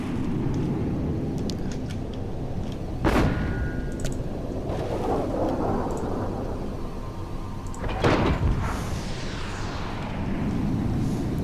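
Artillery building in the strategy game Planetary Annihilation firing at a bot factory, two loud booming blasts a few seconds apart over a steady rumbling battle din.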